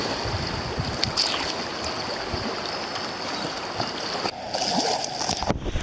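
Rushing river water surges around a kayak on the Spokane River rapids, a loud continuous wash with splashes and paddle knocks throughout, swelling into a rougher burst near the end.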